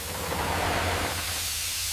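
Steam and mud bursting from a rotary drilling rig on a cliffside highway construction site, a broad steady hissing spray that rises and then eases slightly, with a low mechanical rumble underneath and no voices.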